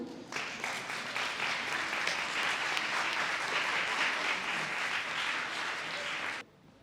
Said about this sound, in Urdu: آپ کی تالیوں کی گونج میں قائد ایوان محمد علی منصور